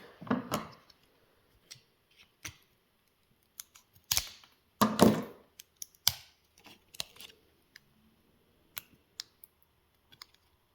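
Plastic packaging covering is cut apart up close during a Suunto Vyper dive computer battery replacement: irregular snips, clicks and crackly bursts separated by short silences.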